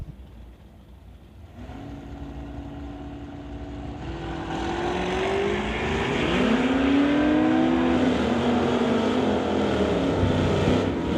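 At a drag strip a Chevrolet S10 and a 1963 Ford Fairlane launch after a brief quiet, their engines swelling into a loud sustained roar with rising pitch sweeps as they shift up through the gears.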